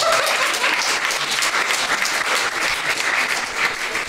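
An audience at an Estonian stand-up comedy show claps throughout, dense and steady, filling the room with sustained applause without pause.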